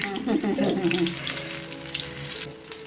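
Gram flour and eggplant bajji fritters frying in hot oil, a steady close sizzle with bubbling that is busiest at the start and then settles into a softer continuous hiss.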